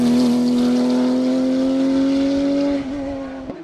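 A Porsche 991 Cup race car screams past at full throttle on the Limonest–Mont Verdun hillclimb, a loud sustained high engine note holding steady, then dropping sharply as the driver shifts and the car pulls away.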